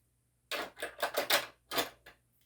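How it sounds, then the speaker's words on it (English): Scissors trim a piece of clear vinyl in a quick run of about six close, crisp snipping cuts after a moment of silence, with no talking. "and trimmed that with scissors."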